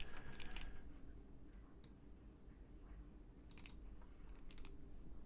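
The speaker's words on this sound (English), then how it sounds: "Put my finger in the right spot on my keyboard." Scattered keystrokes on a computer keyboard, a few quick clicks near the start and small bursts later, quiet and close over a steady low background hum with no talking.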